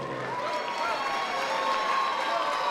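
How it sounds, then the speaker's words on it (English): A crowd at a fight night in a Burbank Marriott ballroom applauds and cheers a losing fighter after a knockout, a steady wash of clapping and cheering lasting throughout. "a big round of applause for his opponent, Raj Patel"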